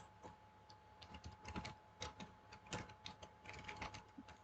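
Keystrokes on a computer keyboard, a steady run of quick, light clicks in irregular bursts, close and fairly quiet over a faint steady hum.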